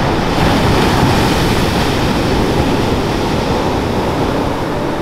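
Huge waves on the open Pacific Ocean break at a remote sea turtle nesting beach, a loud, continuous surf roar with wind buffeting the microphone.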